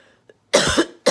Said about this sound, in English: And here we go, a coughing